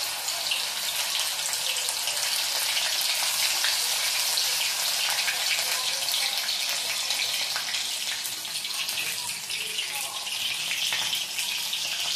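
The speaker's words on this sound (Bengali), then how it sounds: "এর মধ্যে ডুবিয়ে ভেজে নিতে হবে।" Honey prawns coated in a soda-water cornflour and flour batter deep-fry in hot white oil, giving a steady, dense hiss and crackle that runs unbroken throughout.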